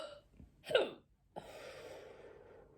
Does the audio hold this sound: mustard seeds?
no